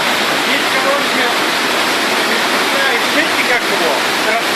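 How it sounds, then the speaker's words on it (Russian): A mountain river surges into a gorge near Piha in New Zealand, giving a loud, unbroken roar of churning water close by that holds steady throughout. "Вот, это горная река. Она идет вот в это ущелье."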